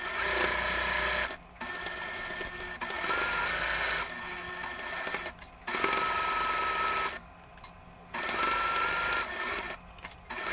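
A sewing machine chain piecing a pinwheel star quilt block, running in steady bursts of about two seconds each, separated by brief pauses, loud and close.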